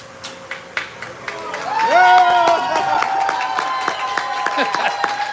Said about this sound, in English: Getting that crowd going here to start this game.